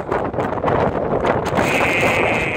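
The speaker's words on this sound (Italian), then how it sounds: "siamo sulla sommità del Regia, c'è un gran vento" Strong wind buffets the microphone on a fogged-in mountain summit, a loud continuous roar with rumbling gusts that fills the whole stretch and has no speech over it.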